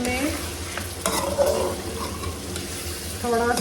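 Mutton pieces hitting hot oil and frying with a steady loud sizzle, with stirring and scraping in the pan close by.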